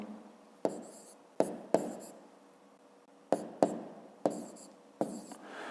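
Pen strokes scratch across paper while numbers are written by hand, coming in short separate bursts of scribbling with quiet gaps between them, close and fairly soft, with no talking.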